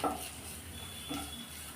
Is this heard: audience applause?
no